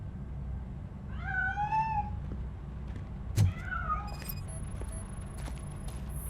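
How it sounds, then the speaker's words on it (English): A cat in the RoboCop Rogue City video game meows twice, rising and falling cries spaced a couple of seconds apart, over a low background hum with a brief clatter between them. "That cat must be hiding inside."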